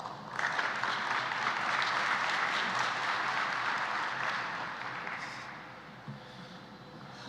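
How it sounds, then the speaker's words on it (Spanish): A conference keynote audience claps steadily for several seconds, a dense wash of applause that gradually fades toward the end. "Lo recibimos con un aplauso."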